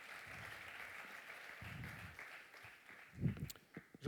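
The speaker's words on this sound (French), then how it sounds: "je vous demande d'applaudir bien fort" Applause from an audience at a corporate stage event as a company founder is invited up: a steady, moderate patter of many hands clapping, with a few louder knocks and thumps near the end.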